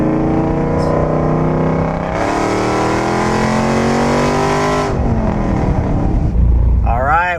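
A supercharged Chevrolet Silverado's engine revs hard at wide open throttle, a loud, close roar whose pitch climbs steadily and then falls back as the throttle is released.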